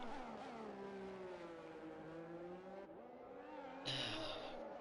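A Ferrari race car on its outlap in a racing video game, engine tone rising and falling through gear changes, with a brief dip and then a harsher burst near the end, steady and moderately loud.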